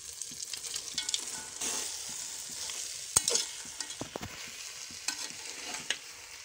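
Mutton frying and being stirred with onions and tomatoes in a pan, a steady hiss of sizzling with scattered scraping clinks of a spoon against metal, close and moderately loud with no talking.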